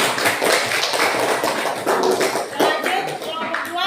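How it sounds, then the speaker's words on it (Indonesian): Classmates in a classroom at SMPN 1 Nangaroro, a junior high school, applaud a student group, a dense patter of hand claps running throughout, with voices over the clapping. "tepuk tangan untuk kelompok 1"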